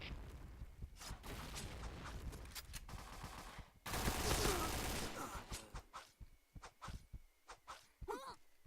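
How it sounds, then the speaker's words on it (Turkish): Gunfire and a loud explosion from a grenade thrown in a video game, with dense bursts of shots followed by a heavy blast and scattered shots trailing off, while a player's voice is heard. "Dikkat! Bomba atıyorum."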